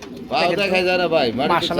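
A pigeon coos close by in a soft, rolling call lasting a couple of seconds.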